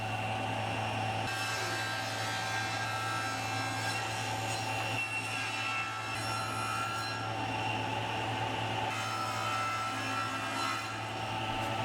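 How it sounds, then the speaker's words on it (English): A table saw rips waste wood off a cove-cut furniture piece, a loud continuous whining hum with the blade biting into the board in sustained passes, close by. "using the table saw, I rip off most of the waste"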